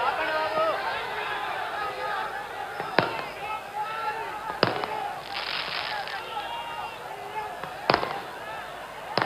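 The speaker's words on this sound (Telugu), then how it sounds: "టపాకాయలు ఆపాలి దయచేసి." Firecrackers burst at an election campaign rally, several sharp, loud bangs going off at irregular intervals over a busy crowd murmur in the background.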